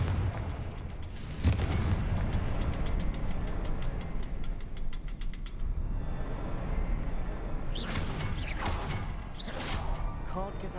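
Confringo explosion spell blasts in Hogwarts Legacy, with booming impacts over a rumbling game soundscape, a burst near the start and two sharp bursts toward the end.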